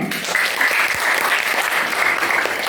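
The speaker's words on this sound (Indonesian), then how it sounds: "Tepuk tangan dulu semuanya" A classroom audience of students and teachers bursts into steady, dense applause at a school bank-account event, continuous and fairly loud throughout with faint voices beneath.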